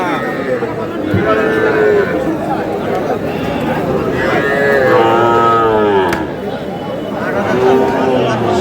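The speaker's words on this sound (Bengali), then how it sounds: "ষাঁড় বাচ্চা" Young bull calves mooing at a busy cattle market in Madaripur, several drawn-out, loud moos from nearby animals rising over a constant background of crowd chatter and bargaining voices.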